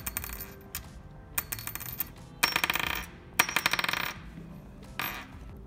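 Aluminum rivets dropped onto a hard surface, giving several bright, ringing clinks and short bouncing rattles in quick bursts, close and fairly crisp with no talking.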